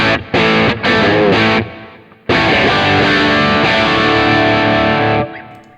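Heavily distorted electric guitar through an MBritt amp profile plays a few choppy chords with short gaps, then a long sustained crunchy passage that cuts off and fades.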